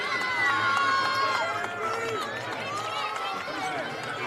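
A girls' state semifinal basketball crowd at Bishop Heelan vs Waverly-Shell roars loudly in the arena, a sustained dense wall of cheering and shouting with whistle-like tones, continuous for several seconds.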